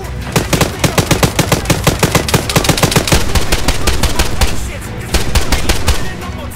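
Loud Arma 3 firefight gunfire: a rapid, evenly spaced string of close automatic shots, then denser overlapping fire and a brief lull before more shooting.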